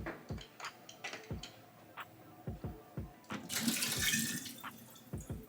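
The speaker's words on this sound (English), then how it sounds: "And then once you poured out the water" Water poured out of a Navage nasal cleaner container splashes into a sink in a short, close burst that follows a run of sharp handling clicks and taps.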